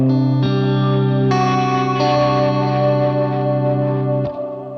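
An electric guitar rings through a Strymon BigSky MX reverb pedal set to long decay and a half mix, sustained chords that shift pitch and swell into a lush wash before cutting off near the end.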